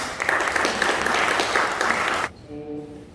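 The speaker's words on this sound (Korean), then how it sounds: "박수로 한번 맞이하겠습니다." An audience at a church village-ministry lecture applauds to welcome a pastor and lecturer. The clapping is a steady, dense wash lasting about two seconds, then stops abruptly and gives way to a quieter sustained tone.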